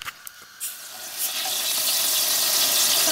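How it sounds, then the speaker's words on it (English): Butter melting in a pan builds into a steady, dense sizzle that starts with a few soft knocks and grows louder and fuller, then holds as a close, continuous frying hiss. "now we've melted our butter"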